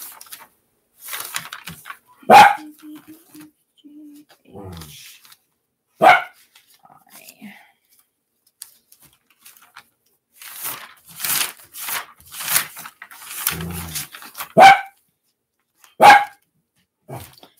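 A dog barks in loud, separate single barks spread across the clip, with a low growl or whimper between some of them and a few quieter sounds nearby.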